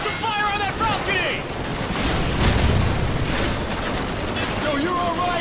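Call of Duty 4 Modern Warfare battle sounds as fire is put on a balcony: rolling booms and gunfire rumble under shouted voices and radio chatter, dense and loud throughout.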